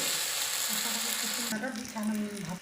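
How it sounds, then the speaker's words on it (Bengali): Onion, ginger paste and cumin paste frying in hot oil, a steady broadband sizzle that thins out halfway through, with a low hum and occasional stirring scrapes; no one speaks. "মশলাটা এখন আমরা লাল করে ভেজে নিলাম।"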